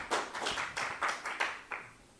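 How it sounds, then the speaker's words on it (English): A small audience gives Dr. Chella a brief, scattered round of clapping, several uneven bursts of claps close by that thin out and fade within a couple of seconds. "A big applause to be given for Dr."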